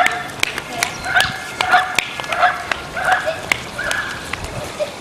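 A dog barks repeatedly in quick yips and bow-wows, fairly close, with people talking over it.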